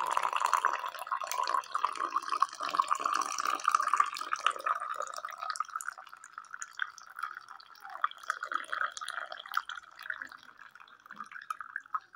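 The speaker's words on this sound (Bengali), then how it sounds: "এই যে চা ফুটছে" Tea boils in a pot with a steady, close bubbling and light dripping that stays fairly even, easing slightly toward the end, with no voices.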